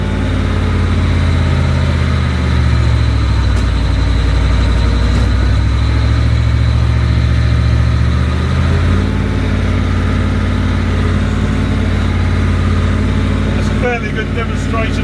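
A 300-horsepower Ford FW-30 tractor pulling a single-leg mole plow, its heavy engine droning loud and steady under load, deep low rumble continuous across the whole stretch with a brief clatter near the end.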